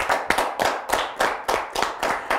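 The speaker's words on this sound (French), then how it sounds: "on peut vous applaudir." Audience in a French television studio clapping, a steady run of sharp hand claps at an even rhythm, close and moderately loud, with no talk over it.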